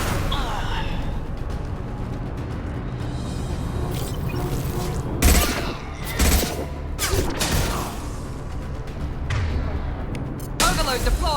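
Scattered combat gunfire in the sci-fi shooter Mass Effect 2, with several sharp bursts and impacts spread through a busy battle soundscape, mixed with voices calling out.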